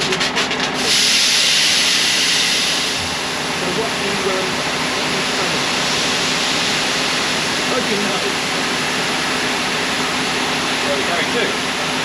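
Granular fertiliser pouring into a spreader mounted on a John Deere 6155R tractor in a field, a continuous loud rushing hiss with a steady engine hum underneath and someone talking briefly.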